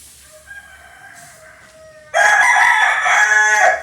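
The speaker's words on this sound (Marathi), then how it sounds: "मला बघ कोंबडा घरात" A rooster crows loudly and close by inside a house, one long strident cock-a-doodle-doo following a few fainter clucking and chirping sounds.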